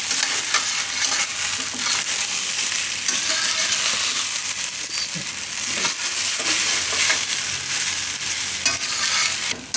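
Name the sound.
onion muthiya mixture being stirred and fried in a pan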